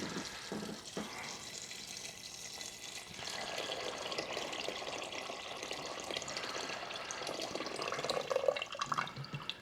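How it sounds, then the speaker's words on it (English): Water from a tap runs steadily into a cooking pot while black-eyed peas are being prepared. The stream is fairly quiet and continuous, splashing a little louder toward the end. "Now, I want to fill this pot with water."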